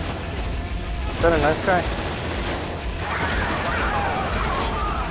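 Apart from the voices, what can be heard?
grenade explosions in the video game Spec Ops: The Line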